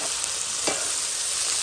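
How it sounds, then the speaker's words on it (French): Onions fry until well browned in a pan, giving off a steady, bright, hissing sizzle with one brief stir partway through. "les oignons sont bien cuits dedans, sont bien roussis"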